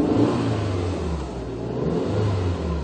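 An Audi A6 with the 2.0 TFSI engine revs freely while stationary, the four-cylinder rising and falling through a couple of smooth throttle blips, close and clear with no talking.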